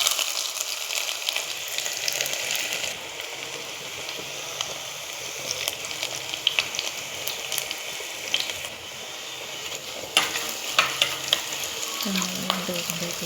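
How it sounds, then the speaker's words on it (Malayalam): Turmeric powder and ginger sautéing in a pan for a fish curry give a continuous close sizzle, with scattered scrapes and ticks of a stirring spoon and a brief watery burble near the end. "മഞ്ഞൾപ്പൊടി, ഇച്ചിരി ഇഞ്ചി നമ്മൾ ഇട്ട് നമുക്കൊന്ന് വഴറ്റാണ്"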